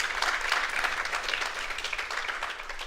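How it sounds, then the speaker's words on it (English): An audience at a panel discussion on connecting with your industry through social media applauds the panelists; dense, steady clapping fills the whole stretch at an even level, with no voices over it. "Can we give them one more round of applause?"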